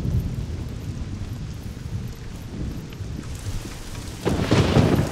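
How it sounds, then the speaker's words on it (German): Steady rain falls in the survival game SCUM, a dense rushing hiss over a low rumble, then swelling heavier and louder near the end. "Der Glückstag fängt schon mit Regen an."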